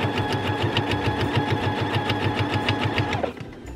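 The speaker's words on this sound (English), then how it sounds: "I'm sewing through leather with denim and 2 layers of wadding, and it's like it's cotton." A Quilt Ambition 2 sewing machine stitches through leather, denim and two layers of wadding, a steady rapid needle chatter with a motor hum, close and loud, stopping abruptly near the end.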